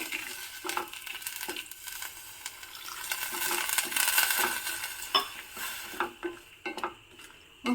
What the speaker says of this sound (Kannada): ಈಗ ನೋಡಿ ನಾನು ಇದಕ್ಕೆ ಒಂದು ಕಾಲು ಆಗೋಷ್ಟು ನೀರನ್ನ ಹಾಕ್ತಾ ಇದ್ದೀನಿ